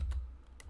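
Typing on a computer keyboard while entering a spreadsheet formula, with a few close, crisp keystrokes in quick succession and no talking.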